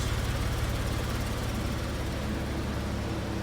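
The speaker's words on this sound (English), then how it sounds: "Listen to that engine purr." A 2002 Porsche 911 Carrera 996 cabriolet engine idles steadily, a smooth, even low rumble heard up close with no speech over it.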